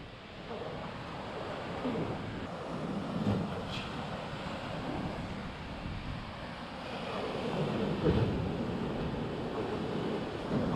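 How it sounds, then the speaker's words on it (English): Sea waves wash against the shore at 6:30 in the morning, a steady broad surf roar with gentle swells and some wind buffeting the microphone, no voices. "We'll just let Bob look at the sea."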